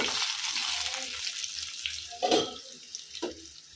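Green chillies and peanuts frying in a pan for a peanut chutney give a steady soft sizzle with a couple of louder scraping stir bursts near the end, close and unaccompanied by talk.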